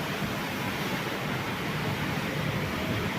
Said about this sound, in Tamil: இப்போயே நல்ல மழை ஸ்டார்ட் ஆயிடுச்சு.